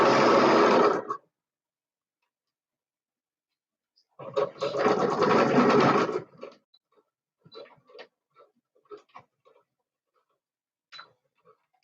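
A sewing machine stitches with thread in two loud, close bursts of rapid mechanical clatter, the first about a second long and the second about two seconds, followed by scattered faint ticks and clicks.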